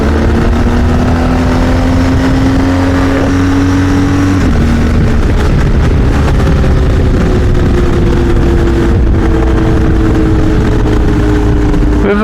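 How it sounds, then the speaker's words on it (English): A BMW GS motorcycle on the road roars loudly under heavy wind rush, and its engine note steps down once as the quick shifter clunks through a gear change. "Let's see the quick shifter clunk."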